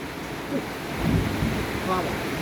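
Steady, dense rush of heavy monsoon-season rain in Thailand filling the whole clip, a broad continuous roar with no clear talking over it.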